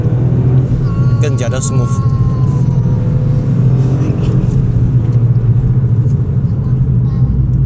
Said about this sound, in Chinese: 因为它有 ILMT Auto Blip 自动补油的系统，所以有 Rev Matching 啦